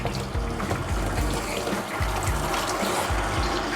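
Water sprays steadily from a shower head up close onto a Bichon Frise dog, a continuous hissing splash with soft irregular patters as it hits the dog.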